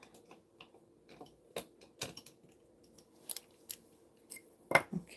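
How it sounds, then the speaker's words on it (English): In a studio, scissors snip in a scattered run of sharp, quiet clicks, roughly eight irregular cuts heard close up. No one is talking. "we need some scissors here."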